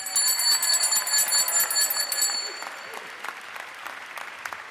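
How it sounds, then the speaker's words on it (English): A bell rings in celebration of a cancer-free diagnosis on the Georgia House floor as a crowd applauds loudly, the clapping dense at first, then thinning and fading. "I'm asking Stan to ring this bell right here in celebration of his cancer-free diagnosis"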